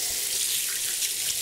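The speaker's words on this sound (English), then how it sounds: "now comes the cold water" Cold tap water runs onto boiled Savoy cabbage in a kitchen sink, a steady, close hissing splash with no other sounds.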